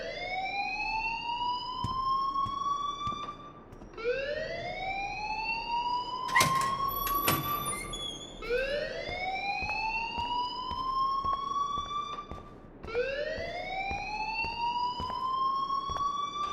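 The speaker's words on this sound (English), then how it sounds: "please turn off that alarm since that's your job" A school alarm rings in the video game Life is Strange, sounding as a loud electronic siren that rises in repeated sweeping whoops. One sharp clatter breaks in midway through.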